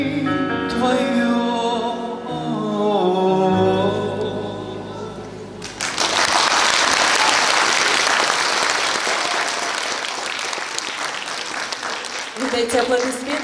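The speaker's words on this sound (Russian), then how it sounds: "Эти аплодисментами конкурсантку под номером 2" Audience at a young performers' contest at a music festival in Molodechno: a sung phrase ends, then loud, dense applause from the hall takes over, and a voice is heard faintly near the end.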